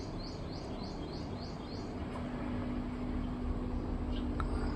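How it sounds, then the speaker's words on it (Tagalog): Outdoors on a hot day, a bird gives a run of about six quick, high chirps in steady succession, fairly faint over a constant background hiss. "Oh, may ibon doon ah."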